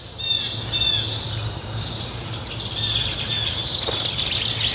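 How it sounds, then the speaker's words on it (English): Birds sing outdoors on a morning beside a tomato trellis in a garden, their light chirps scattered over a steady, high drone of insects, with no talking. "The birds are really singing nice this morning"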